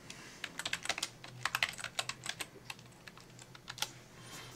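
Quick bursts of close computer keyboard typing as a folder name is entered, a run of sharp key clicks with short pauses and no speech.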